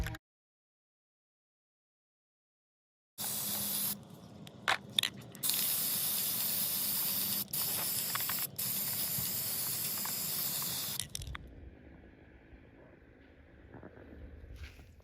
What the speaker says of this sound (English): I'm gonna hit them with some spray paint.